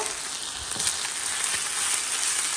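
Shawarma spice mix fries in a pan with a dense, even hiss of sizzling oil, with faint stirring scrapes underneath and no voices.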